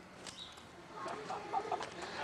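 A turkey clucks and calls in short bursts against a noisy outdoor background, with faint other sounds around it.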